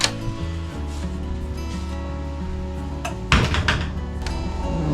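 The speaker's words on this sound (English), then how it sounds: "I haven't walked out this door yet. Here we go." A cabin door on a chartered Aquila yacht at Scrub Island clicks and bumps open, a short knock followed by a brief clatter, close to the microphone against soft background hum.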